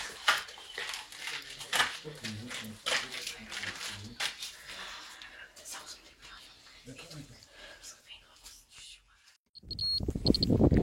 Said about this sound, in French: ça se remet à biper